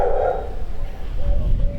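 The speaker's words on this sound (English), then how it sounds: "A couple of dogs barking today." Dogs bark outdoors, a short burst of barking near the start followed by quieter background noise.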